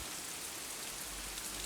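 Steady rain pours down outdoors in November, a dense, even hiss of drops on surfaces with no pauses, fairly close and continuous throughout.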